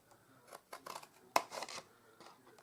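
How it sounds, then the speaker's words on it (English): Scissors cutting vellum paper, several short crisp snips in quick succession with one sharper close cut in the middle, quiet and alone. "So I'm just going to cut it up those lines"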